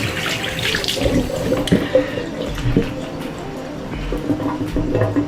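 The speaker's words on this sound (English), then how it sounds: "Let that water flow down and squeeze and bring it all the way down." Tap water running over a wrap-around ponytail hairpiece in a sink, a steady splashing stream with uneven gurgles and squeezing sloshes as the hair is worked under it, close and continuous.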